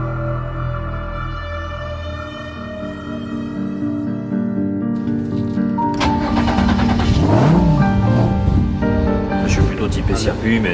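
A Renault Twin'Run concept hot hatch from 2013 driving on a circuit for its first run, its engine droning and then rising into a loud, rough revving pass, heard with a voice talking over it.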